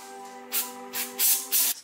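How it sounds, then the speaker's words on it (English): Brake cleaner spraying onto a brake caliper being prepared for painting off the car, in four short hissing bursts of increasing length over a steady background hum, close and fairly loud. "I'm going to use the brake cleaner lightly."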